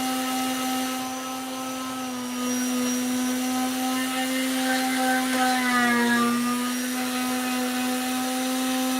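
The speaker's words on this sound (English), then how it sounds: "That sander's starting to struggle." A power sander grinds steadily against deck lids, a loud continuous motor whine with a strong tonal hum that sags and wavers slightly midway as the tool labours under load.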